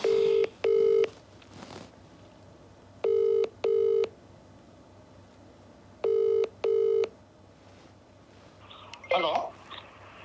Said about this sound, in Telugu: రింగ్ అయితే అవుతోంది